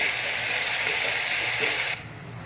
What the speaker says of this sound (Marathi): त्याला देखील 1 मिनिट फ्राय करून घेऊ मस्त मोठ्या आचेवरच।